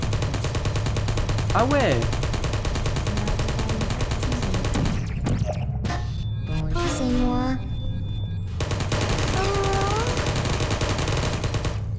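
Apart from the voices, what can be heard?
turret firing at the player in the video game Portal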